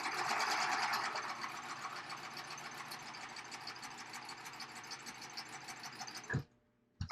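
A sewing machine runs steadily while chaining off past a length of elastic, a continuous close mechanical whir that stops abruptly near the end, leaving near silence.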